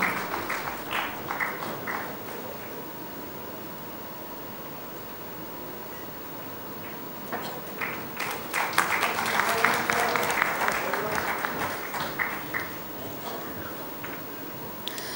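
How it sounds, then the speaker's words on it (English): Audience at a business session evening event applauding, a moderate crowd clapping that swells midway then tapers off, heard from across a hall with faint room noise. "let's have a warm round of applause"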